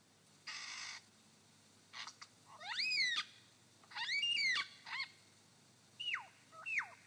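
A lyrebird imitates a yellow-tailed black cockatoo with a harsh, wailing screech, then several loud, drawn-out, rising-and-falling squawking calls in close succession, followed by shorter whistled notes.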